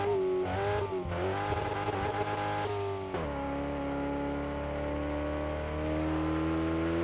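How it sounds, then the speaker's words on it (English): A car engine holds high revs while driving up hills on a race track, producing a steady, loud, continuous drone with shifting pitch and a brief dip partway through, heard from inside the car with no talking. "Trying to keep the horsepower, trying to keep the RPMs up in these hills."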